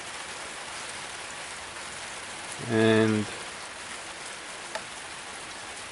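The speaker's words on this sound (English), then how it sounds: "it's raining outside" Steady rain falls outside as a continuous broadband hiss through the whole stretch, with a brief voice in the middle and a small knock near the end.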